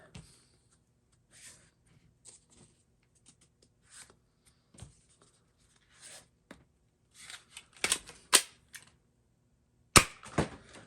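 MeakerArms MK-Knockout MEGA XL foam blaster fires a mix of half-length and full-length darts in a few sharp, snappy pops clustered near the end, the loudest two close together, with faint clicks and handling noises between them.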